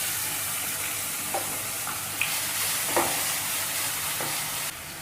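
Crushed ginger and garlic hit hot oil in a frying pan for egg curry, giving a continuous close sizzle broken by a few light scraping stirs and taps of a spoon against the pan.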